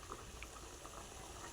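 A pot of chicken curry bubbles steadily on a low simmer, soft gurgles and occasional small pops over a constant faint hiss.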